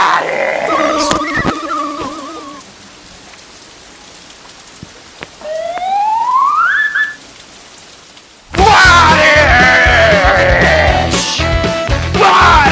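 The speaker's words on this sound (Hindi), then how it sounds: "बारिश बारिश।" Rain patters steadily under a rising whistle and scattered effects, then a much louder, busy burst of tonal sound takes over.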